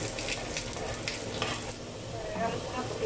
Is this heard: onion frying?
yes